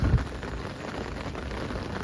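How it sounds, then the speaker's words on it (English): Steady, dense downpour of rain drumming on surfaces outdoors during a fishing outing, a continuous close hiss with no pauses. "The rain hasn't stopped."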